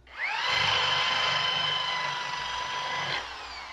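An electric drill powered through a voltage inverter spins up sharply, holds a steady high-pitched whine for about three seconds, then cuts off and winds down.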